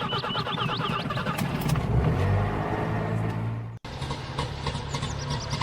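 In the game My Village Life, a car engine runs loud after ignition, a rough steady rumble with some rising revving, briefly interrupted by a sharp dropout before resuming.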